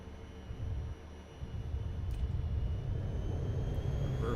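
A Boeing 737 in Aerofly FS 4 rolls out after touchdown as its thrust reversers spool up into a broad, steady engine roar that swells and holds, with no talking over it.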